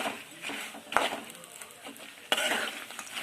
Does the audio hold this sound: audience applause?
no